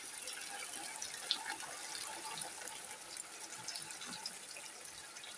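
Water poured into a pot of fried mutton while making nalli nihari, a soft continuous liquid rush with a few small splashy blips, quiet and steady from start to end.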